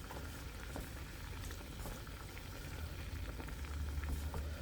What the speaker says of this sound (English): I'm gonna add the egg in now